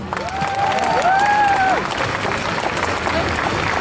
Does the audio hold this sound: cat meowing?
no